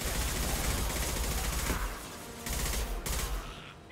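Rapid bursts of enemy gunfire in the video game Mass Effect 2 Legendary Edition, a dense sustained fusillade of overlapping shots that dips briefly and then resumes, loud and alone with no talk.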